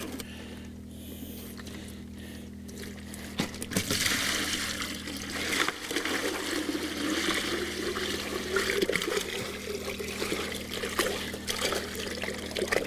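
Gold concentrates and water poured from a tub into a bucket, a continuous splashing, trickling pour that starts after a few seconds of quieter handling and runs steadily to the end, close by.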